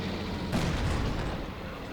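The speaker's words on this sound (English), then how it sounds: "Yep, it's just mortars." Mortar strikes in a real-time strategy game match, a heavy, dull thump and rumble bursting out over steady background battle noise, brief and fairly close.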